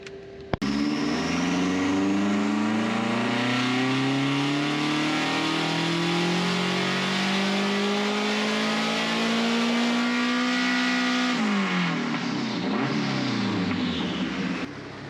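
A turbocharged car engine revs on a dyno, pitch climbing steadily in one long, loud pull for about eleven seconds before the throttle lifts and the revs fall away.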